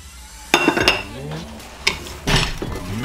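Crumble topping of flour and sugar stirred in a bowl, with a few sharp clinks and scrapes of a utensil against the bowl spaced across a few seconds, close and fairly quiet.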